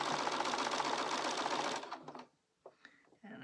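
A sewing machine stitching plush minky fabric runs at a steady fast whir with a rapid needle patter, then stops abruptly, leaving faint handling clicks and brief quiet sounds.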